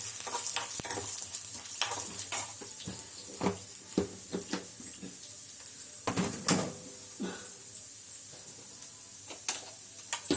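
Dal roasting in a dry pan for a chutney, a soft sizzle under frequent sharp scraping and tapping of a spatula stirring the lentils.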